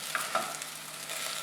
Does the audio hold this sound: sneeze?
no